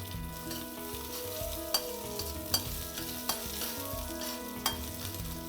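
Mustard seeds, green chili, curry leaves and urad and chana dal sizzling and frying in hot oil in a pan, a steady crackle with stirring and several sharp spoon-on-pan clinks, close and alone.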